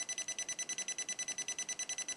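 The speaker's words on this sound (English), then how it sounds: "And of course the alarm." A FNIRSI radiation detector's alarm beeps rapidly and evenly, about eight high-pitched pulses per second, close and clear with nothing else heard.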